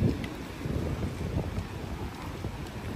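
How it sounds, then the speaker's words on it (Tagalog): Steady broadband rushing of strong wind buffeting the microphone outdoors at the Pasig River Esplanade in Manila, loud and continuous, with a faint patter that may be rain. "Lakas ng hangin."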